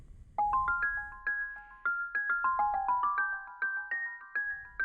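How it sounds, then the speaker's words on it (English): Bright, tinkly synth bell tones from an FL Studio preset play a quick rising and falling melody, each note struck sharply and ringing briefly, clear and up close. "which is a little bit like a sort of Tinkerbell kind of bell"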